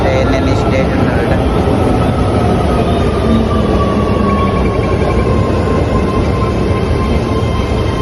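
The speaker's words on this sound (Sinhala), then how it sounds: "ඉතින් ට්‍රේන් එක එනවා." A train pulling into a station in Japan, a loud steady rumble of rolling wheels with a faint squealing tone, continuous throughout.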